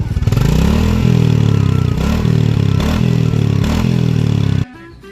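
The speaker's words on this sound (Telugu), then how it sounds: "ఇదైతే మనకి ఎగ్జాస్ట్ నోట్ అనమాట." A Royal Enfield Classic 350 motorcycle sounds its exhaust note up close, a loud, steady single-cylinder thump with a few small rises in revs before it cuts off abruptly near the end.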